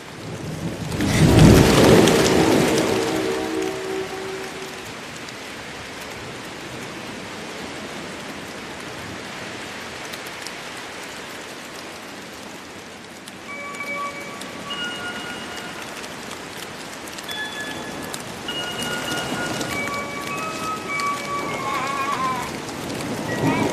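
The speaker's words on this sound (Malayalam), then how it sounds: "എന്തൊരു മഴയാ." Heavy rain pours steadily outside while a loud rumbling thunderclap rolls in near the start and fades, leaving a dense hiss of rainfall; faint tones and a voice surface briefly later.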